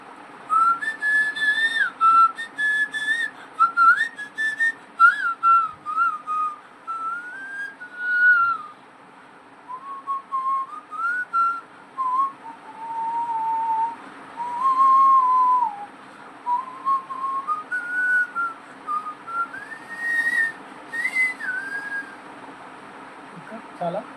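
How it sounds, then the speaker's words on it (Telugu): A man whistles a song, a clear, close melodic line of sliding pitched phrases with short breaths between them, continuing steadily throughout. "అసలు నువ్వు విజిల్ వేస్తుంటే ఏమంటారు, లిప్పు కూడా కదలట్లేదు"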